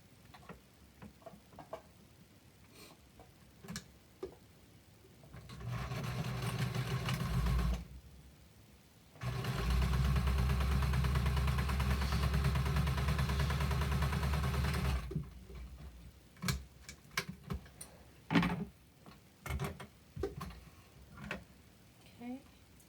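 An electric sewing machine stitches a fabric mask in two steady, loud whirring runs of several seconds each, separated by a short stop, with ticking handling noises and speech around them.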